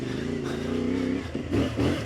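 A CFMOTO 450 MT adventure motorcycle engine, cold, sputters and chugs as the throttle first opens off-road, a close, steady rumble that wavers and surges unevenly near the end.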